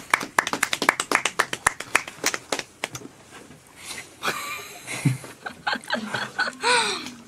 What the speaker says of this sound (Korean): 예인이에게 박수 쳐드려야죠